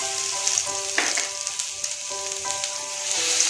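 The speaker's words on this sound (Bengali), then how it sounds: "রসুনটাকে হালকা ভেজে নেব।" Crushed garlic fries in hot oil with radhuni and dried red chilli, giving a soft continuous sizzle. A few light stirring clinks and scrapes break through near the pan.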